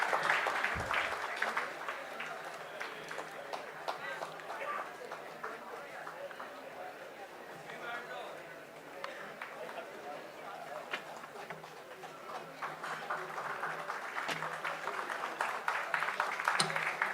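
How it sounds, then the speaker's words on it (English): An audience applauds at a college tech fest ceremony with sustained, crackling clapping that rises and falls, with voices blended into the crowd noise. "Ladies and gentlemen, a big round of applause."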